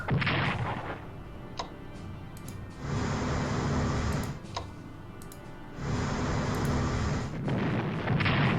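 An aircraft carrier explodes and sinks in the WWII strategy game Strategic Command: 1939 Storm over Europe, with heavy booming blasts and two long roaring stretches of rumbling detonation, loud and without voices.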